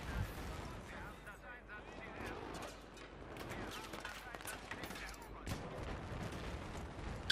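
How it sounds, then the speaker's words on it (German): Tank cannon blasts and bursts of gunfire from a Battlefield 3 multiplayer match roll on through a noisy battle mix, with rapid cracks and dull booms at a distance and low voices chattering over them. "Hast du gesehen, der Tank fetzt."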